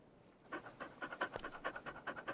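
A dog pants rapidly in Stormworks, a quick, rhythmic series of breathy huffs close up and fairly quiet, starting after a brief pause and continuing steadily.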